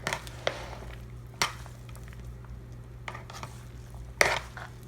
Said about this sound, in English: Now I'm going to mix all that up together.